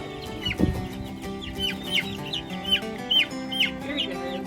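Several hens in a mobile A-frame chicken coop cluck and squawk in short bursts, close by, with a low thump near the start and a steady background hum.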